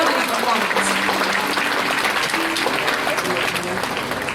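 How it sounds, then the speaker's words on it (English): Steady applause from a school prize distribution audience, a continuous wash of clapping that holds at an even level throughout, with no talking over it. "Please bring your hands together for her extraordinary performance."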